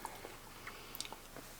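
Crisp, crunchy chewing of a peanut butter cookie made with fresh ground flour, in a few quick bursts, close and fairly quiet, with no talking.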